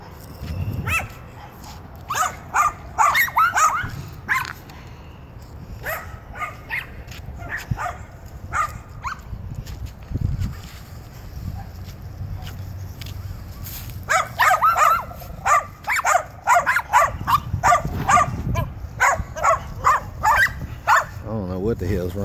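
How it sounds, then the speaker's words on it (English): Several dogs, including a frightened Maltese, bark and yip in repeated bursts, some close and loud, others fainter, with a pause midway before a dense run of barking resumes and a person speaks now and then. "What the hell's wrong with these dogs?"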